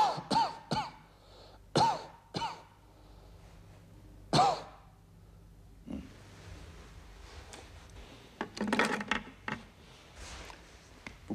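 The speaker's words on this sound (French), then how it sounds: "Toussez." A patient coughing during a doctor's examination, several separate sharp coughs and throat-clearing sounds spread out with quiet gaps, fairly close but soft, with faint rustling and clicks between them.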